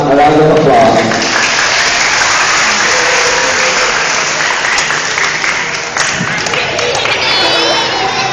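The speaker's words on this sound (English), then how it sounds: "let's give her a round of applause." An audience applauds continuously with scattered cheering and crowd chatter, loud and close, the clapping holding steady from start to finish.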